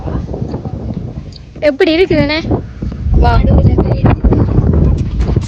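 Outdoor night wind at a rural field camp in Sri Lanka's north, gusting and rumbling against the microphone under steady talk from nearby speakers.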